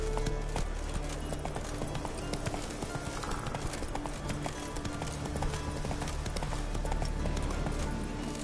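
A horse gallops in The Witcher 3: Wild Hunt with fast, rhythmic hoofbeats that stay loud and close throughout, backed by game ambience and music.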